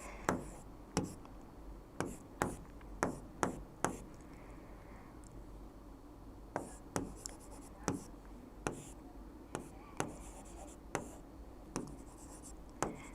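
A pen writes out a chemical structure in a quiet room, with light scratching and a series of sharp taps at irregular intervals as strokes land on the page, close and soft.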